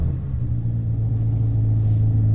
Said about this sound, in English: Should we start the car?